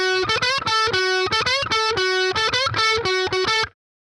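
Distorted electric guitar plays a solo phrase, a fast run of sharply picked, sustained notes with gaps between groups and one long held note, ending abruptly in silence.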